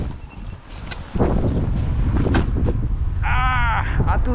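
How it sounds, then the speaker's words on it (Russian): Strong wind roars across the microphone in gusty, buffeting waves through most of the clip, loud and close, with a brief high bleating call partway through. "А тут, бля, ветрище пипец просто."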